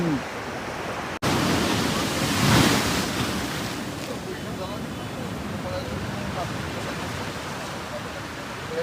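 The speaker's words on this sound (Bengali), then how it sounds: "এখন বর্তমান আমরা দেখতে পাচ্ছি যেগুলো এগুলো হচ্ছে ঢেউ" Sea waves breaking on the beach at Digha in the early morning, a continuous loud roaring wash with gusts of wind buffeting the microphone and a sharp click near the start, with people talking.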